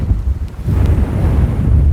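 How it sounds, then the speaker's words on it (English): Strong wind buffets the microphone at Hervey Bay Pier, a loud, continuous low rumble that swells and stays heavy throughout, with a faint wash of surf beneath it. "Battling this wind is a nightmare"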